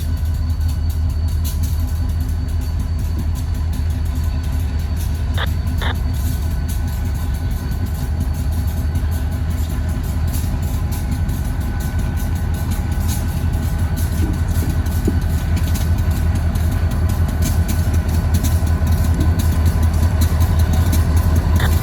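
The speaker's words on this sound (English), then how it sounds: "A little bit of railroad switching going on here today." Diesel locomotives switching railroad cars in a rail yard, giving a continuous deep idling rumble throughout, with a couple of short sharp clanks near the middle.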